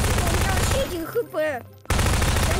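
Dense, continuous gunfire from a Garry's Mod shootout rattles loudly, breaks off briefly while a voice speaks, then resumes at full strength.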